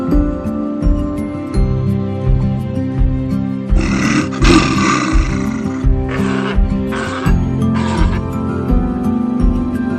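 A lion roars at a zoo, loud and close in repeated deep bursts over a steady low rumble, with sharper rasping broadband roars in the middle of the clip.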